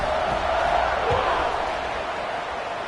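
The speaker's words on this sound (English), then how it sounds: "this crowd is buzzing after that last score" A stadium crowd buzzes at a college football game against Illinois after a touchdown, a steady, dense roar of many voices that holds at a constant level throughout.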